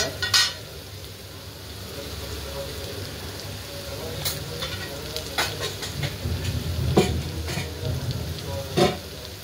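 Turmeric, chilies and onions sizzling in hot oil in a pan, stirred with intermittent spoon scrapes and clinks over a steady frying hiss, heard up close.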